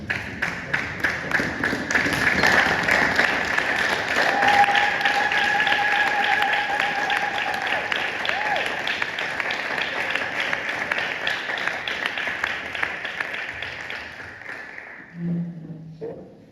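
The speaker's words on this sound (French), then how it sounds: "Levons-nous et applaudissons pour la parole de Dieu" A standing church congregation at Sunday worship breaks into long, loud applause, a dense, sustained clatter of many hands that fades out near the end, where a brief voice is heard.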